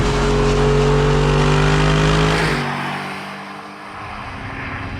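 An Audi R8 V8 engine revs hard with a loud, rising tone, then drops abruptly through a gear change and picks back up more quietly, close and dominant.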